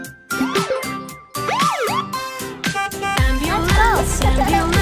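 Cartoon ambulance siren in an animated toddler song: bright, sliding electronic siren tones that rise and fall, woven into bouncy music that grows fuller and louder toward the end.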